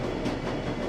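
Steady, muffled rumble of a train ride in the Shadowrun: Dragonfall video game, a continuous low rolling ambience with no distinct clacks standing out, heard alone without voices.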